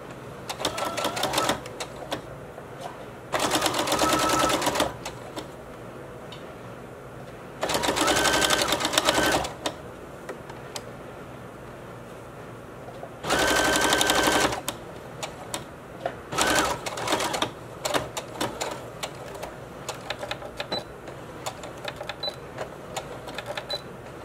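A sewing machine stitches coat lining in several bursts of steady rapid whirring, each lasting a few seconds, with quieter handling and fabric sounds in the pauses between them.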